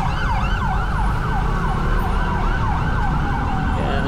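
An ambulance siren wails in quick repeated rising and falling sweeps over steady road traffic noise on a busy street, loud and continuous throughout.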